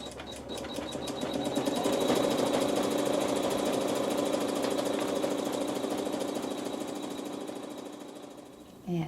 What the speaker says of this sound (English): Needle down, needle up, pull your bobbin thread to the top and begin stitching.